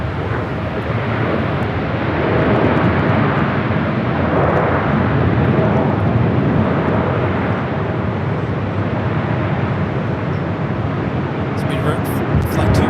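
An Alaska Airlines jet taking off from runway 24 left at LAX gives a loud, broad, sustained roar throughout, with radio talk from air traffic control over it.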